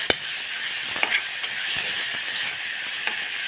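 Green chili paste fries in a pan, a constant bright sizzle with a few sharp clicks and pops scattered through it, close and unaccompanied.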